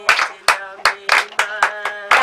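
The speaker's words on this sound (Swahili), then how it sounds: "Kila mtu afurahi, tunapiga makofi." Rhythmic group clapping at a graduation celebration, a steady beat of about eight loud, close claps over a faint tonal background.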